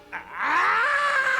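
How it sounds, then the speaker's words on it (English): A recorded human scream is played back. It rises sharply into a long, loud, strained wail that holds steady to the end, with no talk over it. "You gotta hear this scream."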